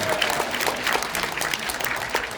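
Audience applause at a freedom-village YouTube channel launch event, thanking a doctor after his speech: dense, steady clapping from a sizable crowd, sustained throughout with no talk over it.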